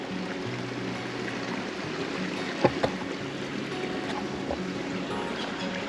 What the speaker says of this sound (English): I hear something that suspiciously sounds like a waterfall, or at least rapidly flowing water